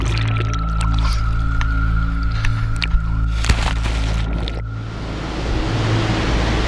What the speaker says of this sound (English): Check the weed I got to get through to get to the water.